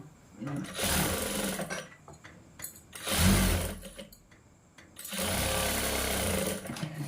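A sewing machine stitches the front panel of a blouse in three short bursts of whirring, close by, with pauses between runs.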